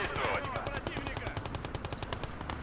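Rapid bursts of machine-gun fire in a WWII-style war video game, loud and continuous with dense repeated shots across the clip, with faint voices underneath.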